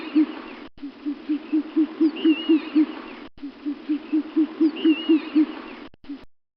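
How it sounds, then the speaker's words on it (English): An owl hoots in a quick, rhythmic series of about eight soft, evenly spaced notes, then repeats the whole run after a short gap, clear and close. "owl,"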